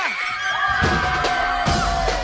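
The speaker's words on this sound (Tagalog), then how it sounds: "parang dalawang po sila yung sumisigaw" Students on a Filipino quiz game show yell and scream in loud bursts, a sustained group shout with sharp whoops rising over a noisy studio crowd.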